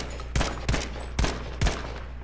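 Four evenly spaced, loud gunshots ring out in a first-person shooter video game, each a sharp crack with a short decay over a steady low background hum.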